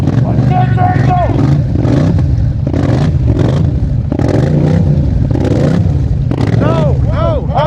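A Polaris HighLifter 1000XP Sportsman ATV stuck deep in mud, its engine revving loud and close in repeated bursts with wheels clattering and churning, while several people shout over it.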